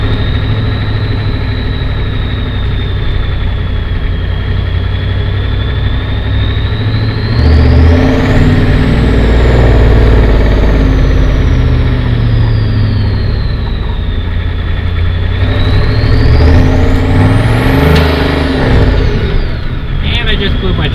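A Ford 7.3 IDI diesel engine with a .63 turbo housing runs loudly and close, with a steady rumble and a rising, falling turbo whistle as it revs twice; voices talk over it.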